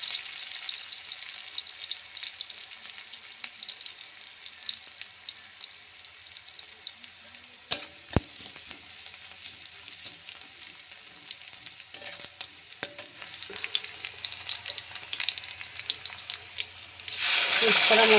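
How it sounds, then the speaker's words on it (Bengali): Onions sizzle steadily in hot oil in a pan, a continuous crackling fry with occasional scraping stirs and a couple of sharp knocks of the utensil partway through. "নাড়াচাড়া করে দিলাম।"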